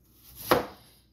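A knife slices once through a chayote in a home kitchen, a single short crisp cut with a soft thud, close and quiet against near silence.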